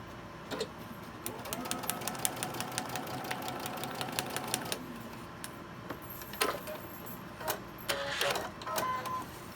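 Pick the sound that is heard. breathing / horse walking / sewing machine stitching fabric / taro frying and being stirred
sewing machine stitching fabric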